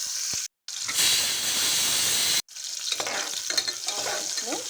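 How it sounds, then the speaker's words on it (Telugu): Onions fry in about three tablespoons of hot oil in a small cooker, a bright continuous sizzle broken by two short silent gaps, with stirring scrapes and crackles near the end. "ఆనియన్స్ని కొద్దిగా ఫ్రై చేసేసుకున్నాం ఆయిల్లో"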